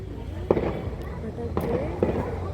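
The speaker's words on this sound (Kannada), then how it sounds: "ಎಲ್ಲಿ ಪಟಾಕಿ ಹೊಡಿತಾರೆ?" Firecrackers burst in a few sharp cracks, spaced irregularly over the steady background of a street setting, with people talking nearby.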